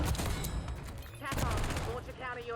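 A rapid burst of gunfire from a Black Ops 6 multiplayer match, several loud overlapping shots cracking over about two seconds, with someone talking over the fight.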